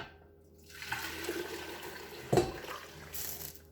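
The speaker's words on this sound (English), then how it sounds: "I'm going to pour that broth right back into the pot" Chicken broth from a big bowl is poured back into a pot on the stove, a soft liquid rush that builds and then tapers, with a brief clatter midway.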